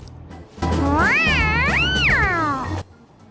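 Morgana, the cat character from the video game Persona 5, lets out one long, loud meow with a rising-and-falling pitch over a low steady rumble, heard alone after a short quiet lead-in.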